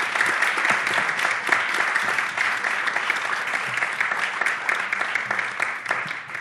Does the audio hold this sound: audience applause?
yes